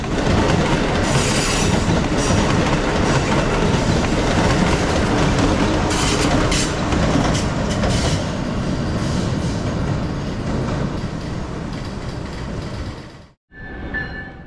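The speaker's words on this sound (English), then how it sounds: "Acela 2255 trundles past on track number 3." Amtrak Acela 2255 rolls past on track 3 at South Norwalk station, a loud, sustained roar with wheel clatter and brief squeals that fades out abruptly near the end.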